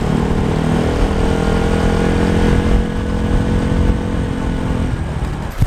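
A motorcycle engine drones steadily as the bike is ridden along, close and loud with a continuous hum and slight shifts in pitch, ending with a brief clatter.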